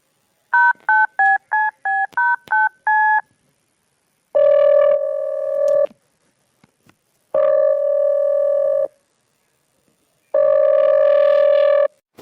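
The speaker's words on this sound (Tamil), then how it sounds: "சரி போன போடுவோம் என்ன செய்யுதான்னு பார்ப்போம்" A telephone call being placed: a quick run of touch-tone dial beeps, then three long, loud ringback tones separated by silences, heard clean and close with no talk.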